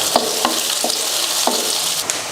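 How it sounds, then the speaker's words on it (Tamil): Sliced onions, green chilies and curry leaves sauté in hot oil for an egg dish, a constant bright sizzle broken by several sharp scrapes of a spoon stirring the pan at irregular intervals. "2 பெரிய வெங்காயம், பச்சை மிளகாய் 3, கொஞ்சம் கருவேப்பிலை. இதை வதக்கிடலாம்."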